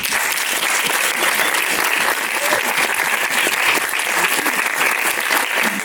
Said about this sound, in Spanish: Por un aplauso quiero pedir para las dos generaciones.